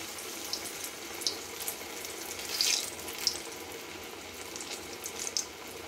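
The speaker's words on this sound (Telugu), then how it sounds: "చిన్న చిన్న వేసుకొని సిమ్లో పెట్టి వేయించుకోవాలి." Small yam vadas fry in oil over a low flame with a constant soft hiss and crackle, dotted with sharper spits and pops, close and steady with no talk.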